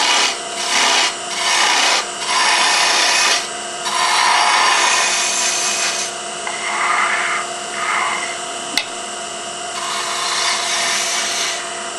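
A wood wine stopper spins on a lathe while a gouge takes light passes, producing bursts of loud scraping rasp that start and stop repeatedly over a steady motor hum, with one sharp click near the end.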